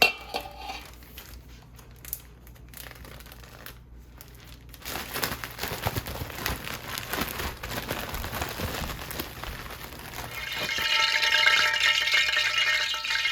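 Stew chicken being shaken in a cooking pot, giving a rattling, sizzling clatter that grows louder and denser toward the end, with no talk.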